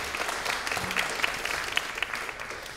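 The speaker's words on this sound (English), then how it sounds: "If you could give them a round of applause too." Audience applause at a chamber music society concert, a steady mass of clapping hands from a seated crowd that holds through the whole stretch at moderate loudness with no voices over it.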